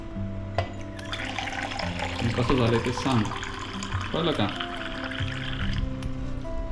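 Water splashes and pours from a tap in a steady stream while someone talks over it, with a low hum beneath.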